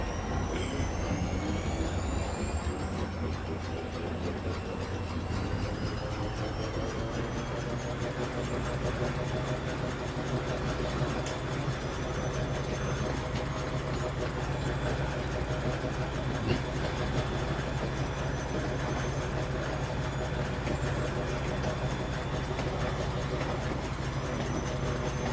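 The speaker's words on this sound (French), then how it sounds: "on va attendre que la loco s'en aille" A locomotive in the factory game Foundry rolls away with a continuous loud mechanical rumble and hum, steady and unbroken throughout, with a faint whine in the upper register.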